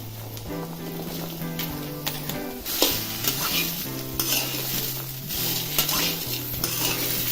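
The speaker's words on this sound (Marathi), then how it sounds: "असं सारखं परतत राहायचं आणि त्याला डाग पळपर्यंत भाजून घ्यायचं" Dry corn kernels roast in a pan without oil, stirred continuously, producing close scraping and rattling with bursts of clatter over a low steady background hum.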